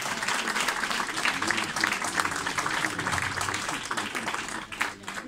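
Audience at an academic-year closing ceremony gives the mayor sustained, dense applause, loud and continuous for several seconds before tapering slightly at the end.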